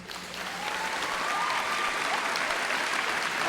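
Audience applause at a 2019 graduation ceremony, a dense steady wash of many hands clapping that swells in the first half second and holds loud and even, with faint crowd murmur beneath.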